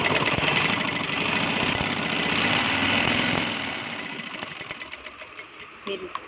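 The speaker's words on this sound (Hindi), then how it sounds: "और इधर भी हम किनारे पर सिलाई लगाएंगे।" A sewing machine stitches the edge of square-design trousers with a fast, steady whirring for about three seconds, then slows into short, separate bursts of stitching before stopping.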